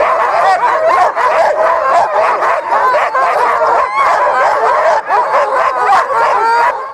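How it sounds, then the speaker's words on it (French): A mixed pack of sled dogs barks, yips and whimpers all at once, loud and close, a continuous overlapping chorus with no pauses. "Quand on découvre cette meute de chiens disparate, il y a de quoi être impressionné."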